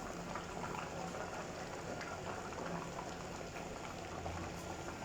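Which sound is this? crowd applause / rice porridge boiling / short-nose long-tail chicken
rice porridge boiling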